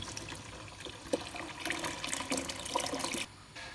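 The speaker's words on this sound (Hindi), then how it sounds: "दालें ऐड करने के बाद इसके अंदर तकरीबन 3 लीटर पानी ऐड करेंगे।" Roughly three litres of water poured into a large pot of soaked lentils for haleem, a fairly quiet splashing gush that swells, then cuts off near the end.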